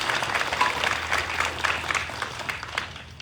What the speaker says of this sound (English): So can we give a round of applause to our dogs?